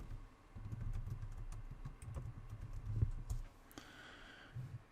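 Typing on a computer keyboard while searching for Google account on google.com: soft, rapid key clicks in irregular bursts, quiet and close, with no talking.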